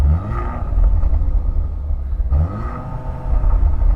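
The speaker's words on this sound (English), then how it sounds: "One last upgrade you need to know about on this new Skoda Octavia VRS is the uprated sports exhaust." Skoda Octavia vRS with an uprated sports exhaust, two rising revs heard close up, each a throaty rumble that climbs and settles back to a low idle between.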